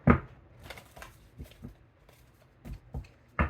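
Tarot cards being shuffled by hand, a series of soft papery riffles and taps spaced irregularly, with louder card-slaps near the start and end and no talking.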